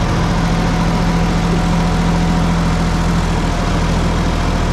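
A heavy tractor engine rumbles steadily and loudly at close range while accelerating on a steep mountain road, its low drone holding firm without breaks.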